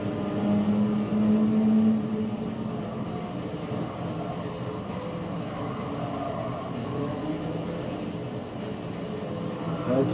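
Mitsubishi car engine in Gran Turismo 7, a steady droning hum with a brief rising tone early on, continuous and moderately loud.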